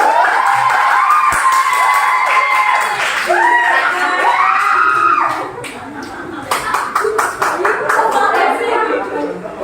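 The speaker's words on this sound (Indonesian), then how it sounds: "Tepuk tangan buat kelompok dua." A classroom of students claps and cheers for a presenting group, with whoops and shouting mixed into the applause, then voices talking as the clapping trails off.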